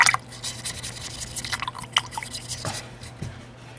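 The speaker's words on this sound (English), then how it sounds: "wash out my big brush" A paintbrush is rinsed in a water pot after painting a wizard miniature, giving soft, close dripping and sloshing liquid sounds with small splashes spread through the clip over a low steady background hum.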